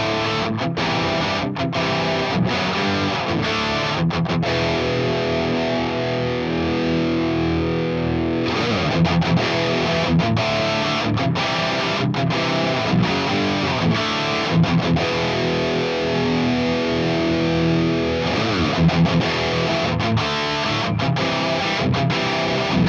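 Electric guitar played through a Fortin Hiwatt Custom Super Hi 50 amp with the gain cranked to high-gain saturated distortion, dense sustained chords and riffs with brief gaps and choppy stops, loud and continuous throughout.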